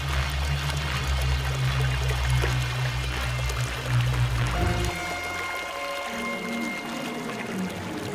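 Water pours and streams steadily in a river as a donkey falls in, a continuous splashing flow that softens partway through with lighter trickling after.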